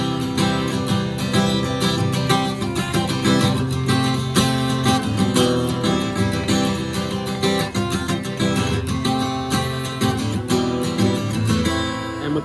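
Guitar strumming the chords of a song, a dense, continuous wash of ringing chords with steady rhythmic attacks throughout, close and full, no voices.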